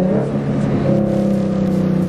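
A Ford Mustang with the 3.7L engine and 3.73 gears accelerates hard nearby, a loud, sustained engine roar that climbs in pitch over two seconds.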